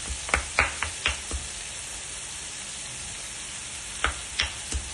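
Crushed garlic hits a hot pan and sizzles with a steady close frying hiss, punctuated by a series of sharp clacking stirs of a spoon against the pan at the start and end; no talking.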